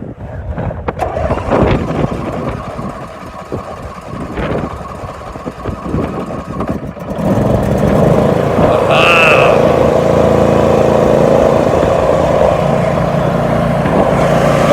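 Wind buffets the microphone at first, then a small tractor engine, choked, starts running and holds a steady, loud, close drone through the rest.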